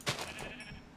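A single short bleat from a sheep in Minecraft, a quick nasal, wavering cry that rises sharply at the start and fades within a second, faint and alone.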